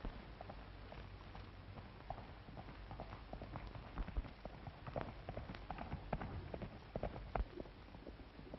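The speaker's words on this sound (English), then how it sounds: "Here comes his horse." Horse hooves clip-clopping across the ground in a 1935 western, a faint, uneven stream of hoofbeats growing slightly stronger over a soft hiss.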